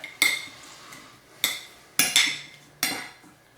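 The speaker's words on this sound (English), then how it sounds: "So all I'm going to do now is give this a little quick stir" Metal utensil scraping and clinking in a pan while leftover pork is stirred through soy sauce, four sharp close strokes spaced about half a second to a second apart.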